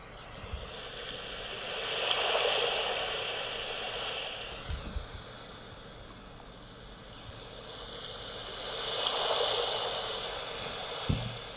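Sea Tide sleep sound from a BARDI smart speaker: steady broadband surf wash with slow swells that rise, fade and rise again, a continuous soft ocean roar with a couple of faint low thumps.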